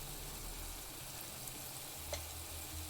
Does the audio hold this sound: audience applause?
no